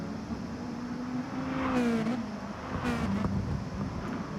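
Mazda race cars in a racing video game drive past and brake hard: steady engine drone with rising and falling revs, loud and close, swelling twice as the cars go by.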